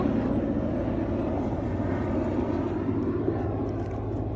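Helicopter flying overhead at dusk near a maize field, a steady loud rotor and engine drone that carries through the whole stretch alone.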